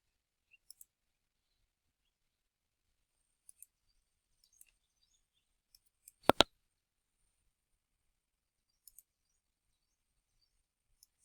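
Computer mouse clicks ring out sharply in a quiet room, mostly quick double clicks spaced several seconds apart, with one louder pair in the middle, and silence between them.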